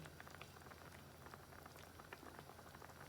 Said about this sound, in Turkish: Bu şekilde bakın güzelce kaynatıyorum